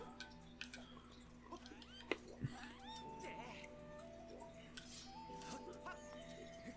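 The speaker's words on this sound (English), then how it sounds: "Ah yes, kitty cat." A cat meowing in the video game The Legend of Zelda: Skyward Sword, with several short, faint meows and a drawn-out caterwaul among clinking in-game sound effects.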